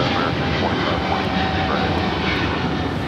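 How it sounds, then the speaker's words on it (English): A Philippine Airlines Boeing 777-300ER jet takes off from Los Angeles International Airport toward Manila. A loud, steady engine roar fills the air, with a voice talking faintly underneath. "113 taking off to Manila on the 777-300ER"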